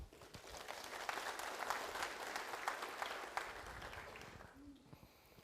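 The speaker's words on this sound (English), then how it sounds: "Round of applause, please." Audience applause at a university entrepreneurial fair, a dense steady crackle of many hands clapping for about four seconds before fading out, with a faint voice briefly heard at the tail.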